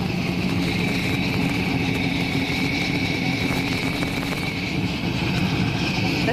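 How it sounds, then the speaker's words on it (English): Porsche 917 Le Mans race car engines at Laguna Seca, a steady loud mechanical roar with a strong droning tone, continuous and unbroken throughout, close and filling the space. "So you are looking at the Le Mans cars, the Porsche Exhibition 917 cars."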